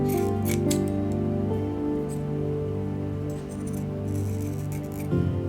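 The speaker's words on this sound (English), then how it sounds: "Get that, and now you just cut it to copy it." Scissors snip through felt while cutting out a copy of a pattern piece for a Golden Freddy plush, giving a series of short crisp cuts over a steady tonal background hum.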